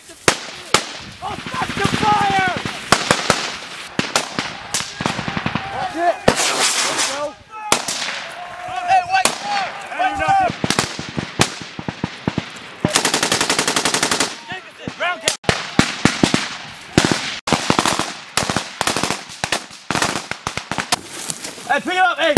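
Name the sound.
Marines firing weapons during platoon attack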